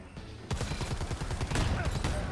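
Rapid bursts of gunfire in the video game Predator: Hunting Grounds, a dense run of shots starting abruptly and continuing steadily, loud and close.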